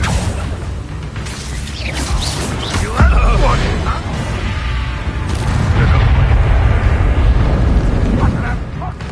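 Confringo fire spell bursting in Hogwarts Legacy, a sharp boom near the middle followed by crackling blasts and whooshes amid dense layered combat noise.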